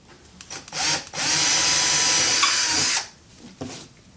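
Power drill boring a hole into a wall while a zigzag wooden corner shelf is mounted: one steady, loud high whine lasting about two seconds, preceded by a short burst, with quiet handling noise before and after.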